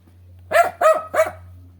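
Three quick barks in a row, close and loud, over a low steady hum; likely a person imitating a dog.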